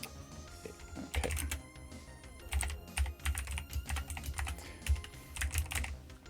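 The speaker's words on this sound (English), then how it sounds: "My typing." Rapid typing on a computer keyboard while coding in Blitz Basic on an Amiga, with dense, close key clatter in uneven bursts and no talk.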